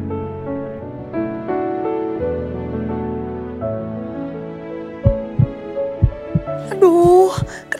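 A heartbeat sound effect from an Indonesian TV drama: several deep, thudding beats in quick pairs rise over a sustained music bed, and a voice breaks in near the end.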